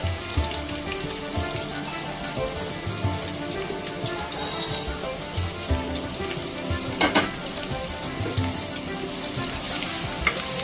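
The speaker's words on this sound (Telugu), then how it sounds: "వేగిన తర్వాత ఆనియన్ యాడ్ చేసుకుందాం" Onion frying in a pan, a continuous moderate sizzle and crackle with small pops and one brief clatter midway, no voices.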